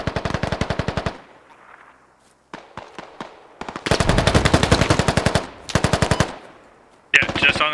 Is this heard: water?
no